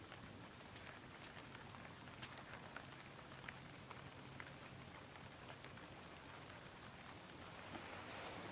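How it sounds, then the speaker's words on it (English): Steady rain patters and hisses across the whole stretch at an even, moderate level, with scattered drop ticks but no single drop standing out. "Now you can hear the rain, can't you?"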